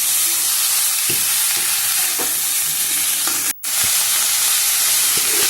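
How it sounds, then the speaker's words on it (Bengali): Cauliflower and potato frying with salt and turmeric, stirred in the pan, with a loud continuous sizzle and hiss and occasional soft scrapes of the spoon, close up; the sound drops out for a brief moment partway through. "ফুলকপি আর আলুটার সাথে নুন আর হলুদটাকে ভালো করে নেড়ে চেড়ে মিশিয়ে দেবো"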